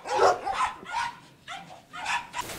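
A two-year-old female black Flat-coated Retriever gives about six sharp, close barks in quick succession, with short pauses between them.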